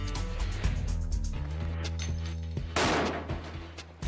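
Gunfire-like bursts of sharp blasts continue throughout, with a sudden louder explosive burst near the end, consistent with a flashbang stun grenade detonating.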